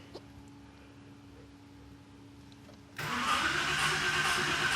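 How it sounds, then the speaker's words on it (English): A rebuilt car engine with a freshly broken-in camshaft cranks and suddenly catches after about three seconds of near quiet, then settles into a loud, steady, close-up idle. "Let's see if this thing will fire up."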